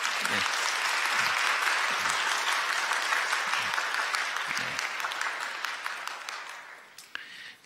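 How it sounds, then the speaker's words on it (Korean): Welcoming applause from a church congregation during a Sunday service, dense steady clapping that holds for several seconds, with faint low murmurs underneath, then tapers off near the end. "인사드릴 때 여러분들 환영의 박수 부탁드립니다"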